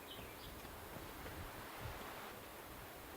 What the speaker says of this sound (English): It's a little bit breezy today